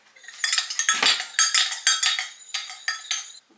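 A spoon stirring a borax mixture in a bowl makes a rapid run of bright clinks and scrapes, about a dozen sharp metallic taps in quick succession, close and clear with no talk.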